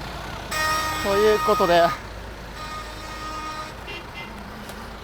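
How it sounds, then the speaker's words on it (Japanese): Heavy road traffic on a street in Alexandria, Egypt, a steady wash of passing cars with a horn toot, while someone talks over it close by. "ちょっとね向こうに渡りたいんですけど、インドレベルの交通量えぐすぎる。"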